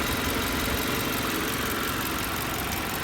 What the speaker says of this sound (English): You can hear the direct injection kicking away down there.